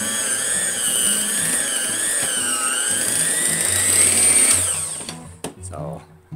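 An electric mixer's beaters churn cream cheese frosting, a loud whirring motor whine with wavering pitch that stops abruptly near the end, followed by a few clinks while a voice talks underneath.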